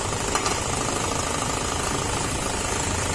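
A scooter engine runs steadily at close range, a rough, rattling idle with a fast mechanical chatter that holds constant throughout.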